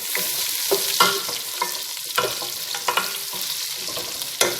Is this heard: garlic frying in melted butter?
yes